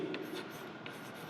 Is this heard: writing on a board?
yes